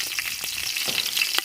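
Curry leaves and green chillies sizzle and crackle steadily in hot oil, close and fairly loud, with a few sharper pops and no voices.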